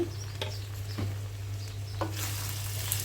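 Bitter gourd fries in a pan while a spatula turns it, giving a soft continuous sizzle with a steady low hum behind it and a few light scraping taps, and no one speaks.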